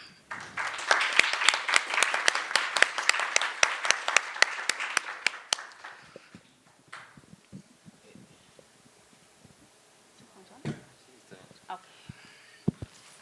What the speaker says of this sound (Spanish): A quien les pido, por favor, un fuerte aplauso para el maestro Adrián.